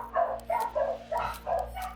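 Dogs barking inside the video game Baldur's Gate 3, a run of about five sharp, evenly spaced woofs at moderate distance over a low steady hum.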